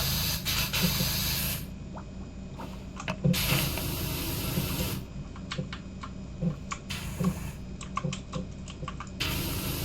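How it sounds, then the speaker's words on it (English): Stone cleaner sprayed from a pressure washer in PowerWash Simulator, a steady loud hiss in several long bursts broken by short pauses, with faint clicks and tapping between the bursts. "A little bit of stone cleaner here."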